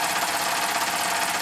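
Several Peake engines turn over together on compressed air, giving a steady, dense mechanical whir with a faint knocking beat that holds at an even level throughout.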